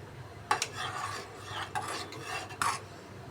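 Thick ragi porridge stirred in a pot, with a few distinct scraping strokes of a spoon against the metal over a low background hum and no talking.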